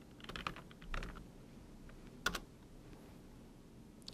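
A few isolated clicks of keys pressed on a computer keyboard, including the F2 key, with a sharper distinct press midway, close and quiet.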